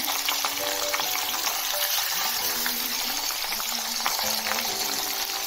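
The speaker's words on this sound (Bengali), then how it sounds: "পাবদা মাছের তেল ঝাল করার জন্য পাবদা মাছগুলো প্রথমে দিয়ে দেবো।" Pabda fish fry in oil in a pan with a continuous loud sizzle and crackle, with faint tonal squeaks and scrapes underneath and no talk.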